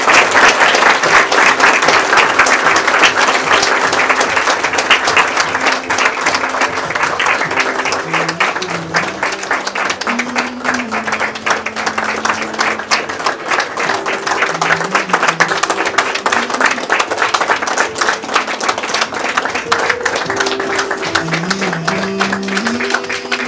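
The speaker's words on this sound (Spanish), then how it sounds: "Fuerte los aplausos, por favor." Loud, sustained applause from guests at a golden wedding anniversary celebration in Quingeo, Azuay, Ecuador, a thick continuous clapping that fills the room, with background music tones running underneath throughout.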